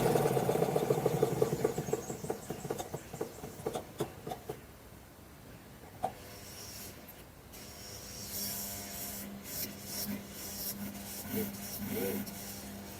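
An old treadle sewing machine, refitted with a motor switched by a contact, running flat out: a dense rapid mechanical clatter near and loud at first, thinning into quieter irregular whirring and ticks, with someone talking over part of it.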